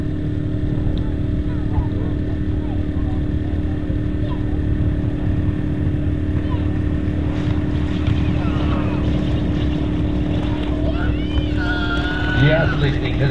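A propeller warbird, a Sea Fury, lands at an airshow, its engine droning steadily in the distance throughout while a commentator talks over it.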